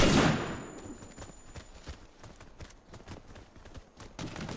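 Rapid gunfire bursts in the online shooter Warface, a run of sharp repeated shots at moderate level with a loud burst at the start, no voices.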